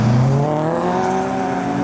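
Pink BMW E46 driving past as modified cars leave a car meet, steady engine tone with a falling pitch as it passes close by, no talking.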